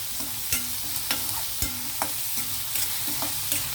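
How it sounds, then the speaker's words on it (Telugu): Prawns and onions frying together in a kadai, a steady sizzle broken by sharp scrapes and clatters of a stirring spoon at irregular intervals, close and moderately loud. "ఉల్లిపాయలు వేగేటప్పుడే మనం రొయ్యలు వేసేయచ్చండి"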